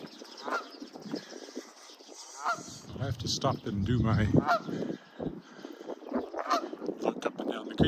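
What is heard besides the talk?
goose honking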